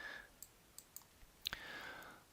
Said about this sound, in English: So let's click that.